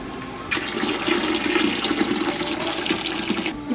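Water pours steadily into a cooking pot of Vietnamese bún bò Huế spicy beef soup, a loud continuous gush starting abruptly and cutting off near the end, with no talk.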